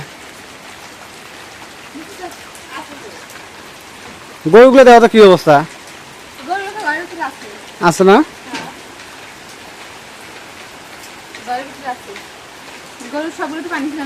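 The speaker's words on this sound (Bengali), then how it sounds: "প্রচণ্ড বৃষ্টি হচ্ছে" Heavy rain pours down steadily around a rural homestead, a constant broadband hiss running throughout while people talk over it in short exchanges.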